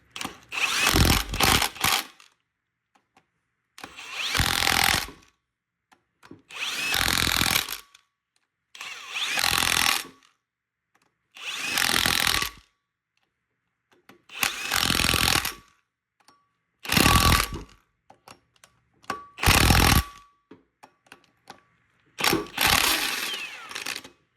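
Power tool tightening wheel bolts in a crisscross pattern on an Acura Integra, loud repeated bursts of whirring, about ten in a row separated by short pauses.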